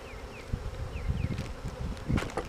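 Honey bees buzz steadily around a swarm bait box outdoors, a close, continuous insect drone with a few brief bird-like chirps over it.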